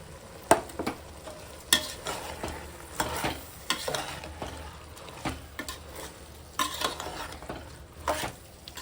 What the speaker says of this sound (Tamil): இப்போ நான் அரிசி போட்டுக்கிறேன்